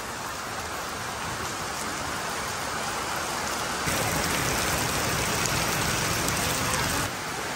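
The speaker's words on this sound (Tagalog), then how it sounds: "sobrang lakas ng ulan dito sa Philippines" Heavy rain roars continuously in the Philippines, a thick wash of drops hammering nearby surfaces, growing a bit louder midway before easing slightly.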